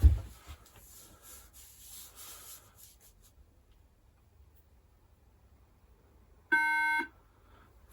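A 2011 iMac gives a single loud, steady electronic beep about half a second long after near-silent startup, with a faint low hum and light rubbing noises early on.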